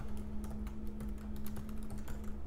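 Rapid, steady clatter of keys as code is typed on a computer keyboard, close and fairly clear over a low steady hum, with no voice.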